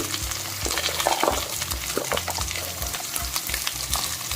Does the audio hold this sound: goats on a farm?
no